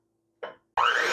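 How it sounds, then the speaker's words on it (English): Eggs dropped into creamed butter and sugar for a peanut butter coffee cake: a brief soft wet plop, a short silence, then a louder, sustained squishy splat as the egg lands. "I'm going to add in 2 eggs, one at a time, and I'm going to stir it in between."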